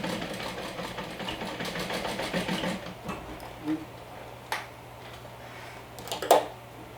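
A sewing machine stitches a bag, a close, steady mechanical whirr for about three seconds, then stops, leaving a few isolated clicks and small handling knocks.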